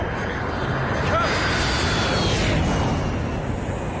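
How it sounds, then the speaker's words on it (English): An airplane comes in to land at Heathrow in a radio drama sound effect, a loud broad jet rumble and whine that swells and passes, with speech heard over it. "There's a plane coming into land."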